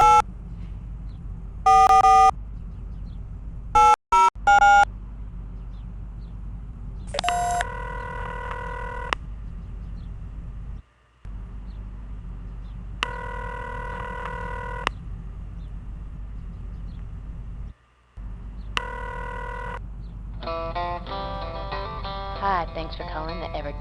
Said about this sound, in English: I can use the number keys to just dial.